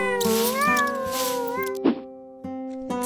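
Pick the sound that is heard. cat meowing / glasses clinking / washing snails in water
cat meowing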